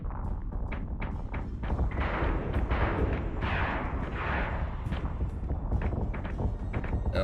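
Ship weapons in the Battlestar Galactica Deadlock space strategy game fire in rapid, overlapping thumps and bursts, a dense continuous barrage with deep rumbling impacts, loud and close.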